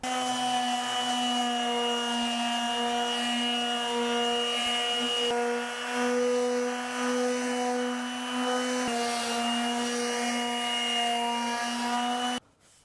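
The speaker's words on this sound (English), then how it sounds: "I finished my first round of sanding using the 100 grit" A power sander with fine-grit sandpaper drones steadily on a wooden dresser top, a constant whirring hum with slight shifts in pitch as it moves, then cuts off at the end.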